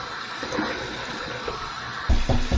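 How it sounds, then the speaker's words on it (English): Water runs from a tap as a man rinses his face after shaving, a steady close splashing flow with louder splashes near the end, no talking. "we're going to finish up with my final rinses. One warm, one cold"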